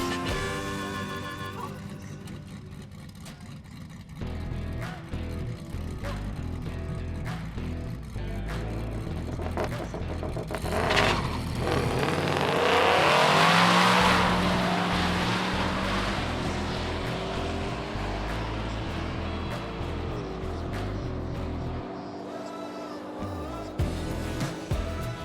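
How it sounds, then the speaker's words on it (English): A rebuilt car passes by at part throttle, the engine note swelling as it draws near and then fading, heard from the roadside with steady background rumble. "So that was obviously a not full throttle pass."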